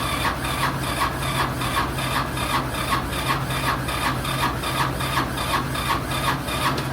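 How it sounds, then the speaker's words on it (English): A Honda Helix scooter engine cranks over in freezing cold around 1°F (-17°C) with the throttle twisted, a steady rapid mechanical churning that repeats evenly and close by, with no talk. "I'm going to go ahead and twist the throttle, and that'll dump fuel in while I'm cranking."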